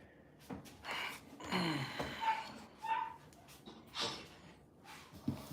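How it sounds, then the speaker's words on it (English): A dog whines outside a door, jumping against it, giving a few brief, faint high whimpers spread over several seconds with no one talking. "Y'all hear my dog out there whining like he ain't got no food"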